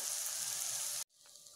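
Okra fries for a pepper fry in a pan with a steady, close hiss of sizzling oil that cuts off abruptly partway through, leaving quieter background noise.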